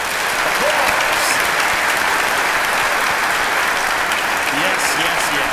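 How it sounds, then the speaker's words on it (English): A church congregation at an Easter Sunday service applauds the staff, a loud sustained wave of clapping that holds steady throughout, with faint voices and cheers mixed in. "Can we give them a round of applause?"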